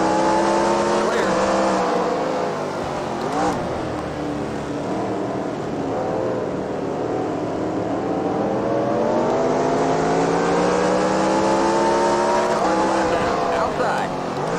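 Race car engines drone and rev loudly and steadily in NASCAR Racing 2003 at the Virginia 500, with pitch sweeping up and down through gear changes. A spotter's voice speaks over the continuous engine roar throughout.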